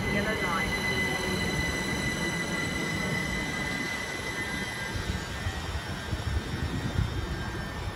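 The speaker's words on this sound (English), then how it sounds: "(387134) returning for a service to London Paddington." A Class 387 electric train, unit 387134, runs at Ealing Broadway station on a service to London Paddington, giving a steady, loud rumble with a high whine held throughout.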